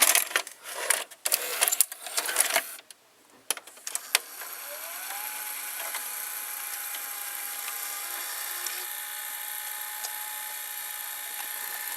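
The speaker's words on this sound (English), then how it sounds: "Now I will insert a tape in the JVC" A VHS tape going into a JVC HR-D142U VCR: clicks and clunks of the cassette being handled and seated, then a steady whirring of the loading motor and mechanism.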